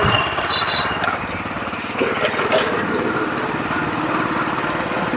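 A Heavyator power tiller engine chugs steadily at close range, with a throbbing rhythmic putter and a brief voice over it early on.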